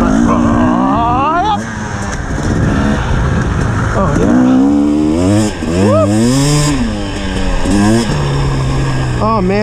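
Two-stroke KTM or Husqvarna dirt bike with a TPI power-valve engine, revving up and down in rising and falling sweeps while riding, loud and close throughout, with no one talking.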